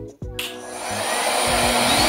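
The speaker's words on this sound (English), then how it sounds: "turn this on and show you how I detangle and blow dry her hair with the RevAir Reverse Air Dryer" A RevAir Reverse Air Dryer switches on and roars steadily while blow drying 4c and 4b natural hair, a loud, close, constant whooshing hum with a rising motor whine and no talking.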